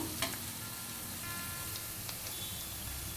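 Ivy gourd (tindora) frying in a pan, a steady close hiss and sizzle throughout with a few soft stirring scrapes near the start.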